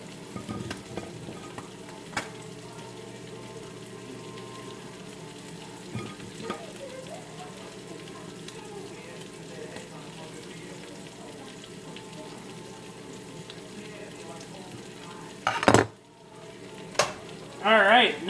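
Fries fry in a pan, a steady soft sizzle that continues evenly near the microphone, with a few light clinks and a short burst of louder handling and splashing near the end.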